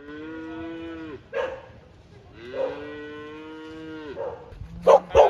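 Cows moo in long, drawn-out calls, two big lowing moos followed by shorter ones, loud and close outdoors, with a couple of sharp barking bursts at the end.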